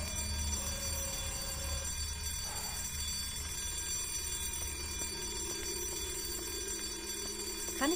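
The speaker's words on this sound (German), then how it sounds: "Kann ich den Alarm irgendwie abstellen?" A steady electronic alarm rings continuously in the Silent Hill: Downpour video game, a faint, regular tone under low background hum, with no talk.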